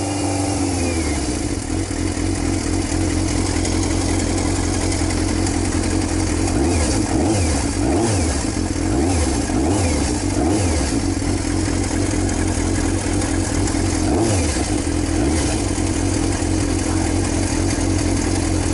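A used motorcycle engine idles steadily with its choke on, running slightly rich, a continuous close mechanical drone with a few throttle blips partway through; the bike has sat a couple of months with stabilizer in a full tank.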